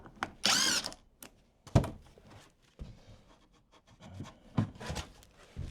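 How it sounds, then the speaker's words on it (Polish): Power drill boring through thin sheet metal inside a bus being converted to a camper, heard as short close whirring bursts and knocks separated by quiet gaps, with no talk. "Najpierw jest cienka blacha i ten wkręt do drewna tego nie przekręci, więc będziemy musieli najpierw rozwiercić."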